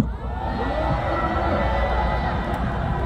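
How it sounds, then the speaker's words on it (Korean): A large crowd at an outdoor candlelight rally in Gwanghwamun square roars and cheers in a loud, sustained wall of shouting voices that lasts throughout. "연대와 응원의 함성을 보내주십시오"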